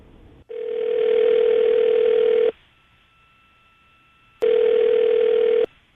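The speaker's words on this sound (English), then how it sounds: "we'll call him right now, see if we can get him on the phone" Outgoing telephone ringback tone on a radio call: two long, steady electronic rings separated by a quiet pause, loud and clean with no voices.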